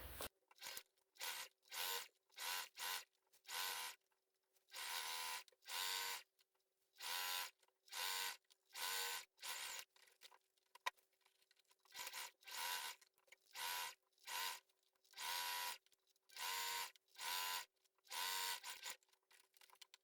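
A sewing machine stitching a hobo bag seam at a 3/8 inch allowance, running in quick repeated bursts of rapid mechanical clatter separated by short pauses, close and clear in a quiet room.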